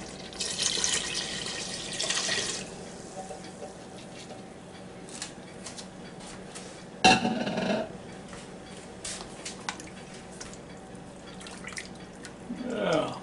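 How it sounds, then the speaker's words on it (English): Beef broth trickles and drips into a Ninja Foodi pot, with a brief louder splash midway and quiet kitchen clatter throughout. "Now I'm going to add my beef broth here."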